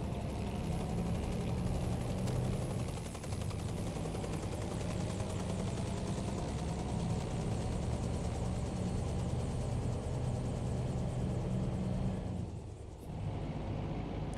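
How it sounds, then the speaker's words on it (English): A helicopter passes overhead in American Truck Simulator, its rotor and engine making a steady, loud continuous drone that fills the whole stretch, with a slight dip near the end and no talk. "Helicopter overhead."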